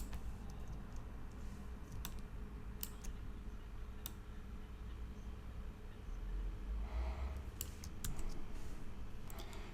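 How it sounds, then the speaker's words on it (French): Sparse key presses tap on a computer keyboard during Photoshop work, including the X shortcut key: a few isolated, fairly quiet clicks spaced seconds apart over a low steady background hum. "Ça, c'est la touche X sur le clavier"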